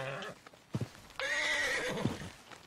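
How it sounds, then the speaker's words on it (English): A horse in Red Dead Redemption 2 gives a loud, close whinny that rises and quivers for over a second, with snorts and clip-clopping hooves just before it and a snort after. "Let's mount the horse."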